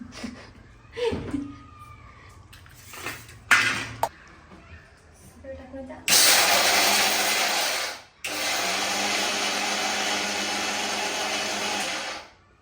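A mixer grinder grinds peanut chutney in a home kitchen: a loud, steady whirring run of about two seconds, a brief stop, then a longer continuous grind. Before it come clinks, clatter and a voice.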